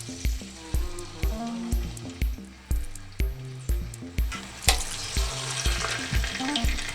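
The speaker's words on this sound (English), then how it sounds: "we add the pork pieces." Pork pieces drop into hot lard in a cast iron pot, each landing with a clink and splash, then a loud, spreading sizzle builds into steady frying with no talk.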